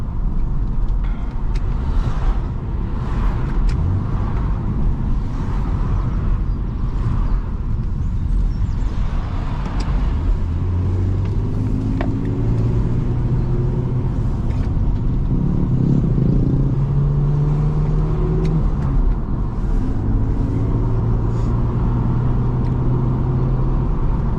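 A BMW E46 330Ci carries on a steady engine drone and road rumble throughout, with low tonal rises as it accelerates through the gears and no talking.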